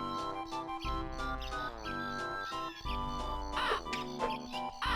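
A cartoonish bird squawking in Banjo-Kazooie's Click-Clock Woods, a string of raspy, pitch-bending caws layered over bouncy game music, repeated several times at moderate volume.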